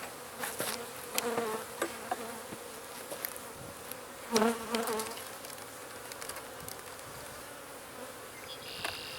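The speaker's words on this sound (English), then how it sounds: "I'm just going to start shaking them into their hive." Honey bees being shaken into their hive: a steady buzzing swarm hum with scattered louder bursts and thumps as the bees are knocked from the frames, fairly close throughout.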